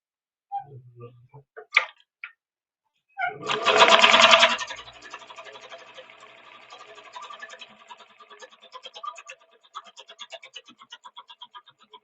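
Sewing machine stitching at stitch length 10 in a home studio: a few scattered clicks and thumps, then a loud whirring burst that settles into a fast, steady ticking run of needle strokes, close and alone.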